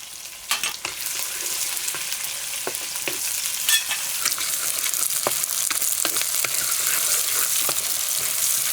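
Two medium onions and five slit green chillies fry in a pan for mutton curry, giving a loud, dense continuous sizzle broken by sharp clicks and scrapes of stirring.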